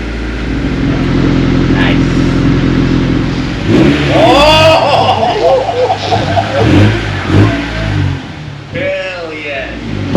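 A 1993 DA Acura Integra with a Tanabe Revel Medallion Street Plus exhaust starts cold, firing up and revving briefly before dropping to a burbling idle, with people talking over it.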